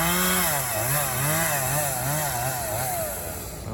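A chainsaw cuts brush loose on a hillside during tree removal and clearing, its engine droning loudly and steadily with rising and falling pitch as the chain bites into wood, up close with no talk.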